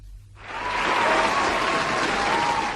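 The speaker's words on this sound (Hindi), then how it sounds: "और अब मैं आप लोगों के लिए ताली बजाने जा रही हूँ" A canned applause effect plays on a Hindi radio show, a burst of crowd clapping that rises quickly from silence and holds steady, with a faint thin whistle-like tone running through it.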